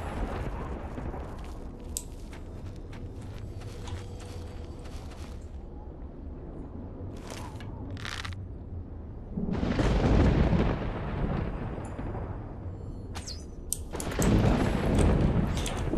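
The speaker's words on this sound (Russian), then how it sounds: "Ой, блин, гром пугает это." Thunder in the video game Oblivion rumbles as low, heavy booms, two louder rolls swelling up later over a steady ambient background, with no talking.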